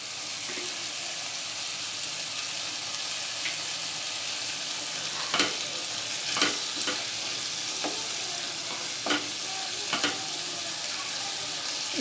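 Tur tilkut curry cooks in a pan with a steady, soft sizzle, broken by a few sharp scraping stirs of a spoon around the middle and end; no talking.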